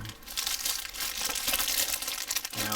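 A plastic bag of 1/72 Chengdu J-20 model kit parts crinkles and rustles as it is handled up close, with a steady stream of crackling and a few sharper crunches.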